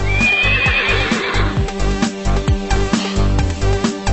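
A mare neighs loudly and close by in a long, wavering whinny, and a steady series of hoof clip-clops follows, beating in an even rhythm.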